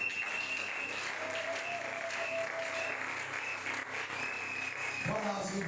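A church congregation applauds and cheers steadily throughout a worship service, a dense continuous wash of clapping with a few voices and tones mixed in, then a louder burst near the end.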